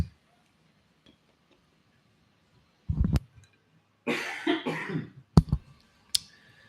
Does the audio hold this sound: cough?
yes